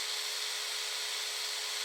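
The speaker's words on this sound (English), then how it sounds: "I like to carefully apply lube to my chain while it's turning." A SeeSii cordless pruning saw runs its chain at a steady whine, a continuous close hiss with no pauses and no voices.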